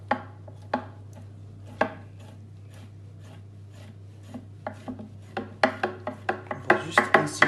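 A knife delicately scores the skin of seafood for a risotto: a few sparse, sharp taps at first, then a quickening cluster of close, crisp cuts toward the end, over a steady low hum.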